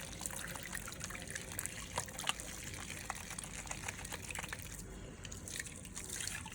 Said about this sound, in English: we will look to wash the suds off in the water and use paper towels